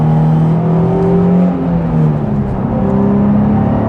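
A Nissan 350Z engine revs loudly and steadily through a downshift, its note rising and falling close up with no talk.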